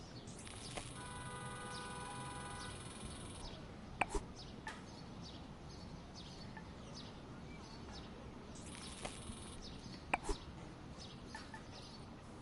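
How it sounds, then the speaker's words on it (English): Morning city ambience in the video game Golf Club Wasteland: faint steady background with repeated chirping birdsong calls and occasional sharp clicks, no distinct car pass-bys standing out. "Sound of the bustling city in the morning, a call and response of cars and birds"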